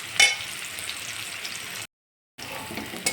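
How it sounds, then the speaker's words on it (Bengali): Bitter gourd frying lightly in oil, a soft continuous sizzle with a brief louder crackle at the start, cut by a short gap of silence, then resuming quietly. "করলাটা কিন্তু খুব কড়া করে ভাজবো না, মোটামুটি একটু ভেজে করলাটা তুলে ফেলবো"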